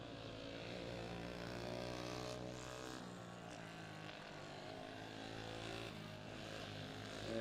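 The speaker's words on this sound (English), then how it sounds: "Kart looking real good this week as she cruises on down the back straightaway." A racing kart engine drones at a distance as it runs down the back straightaway at a weekly race at Exit 7 Motorsports Park, a steady buzzing whine holding at moderate level throughout.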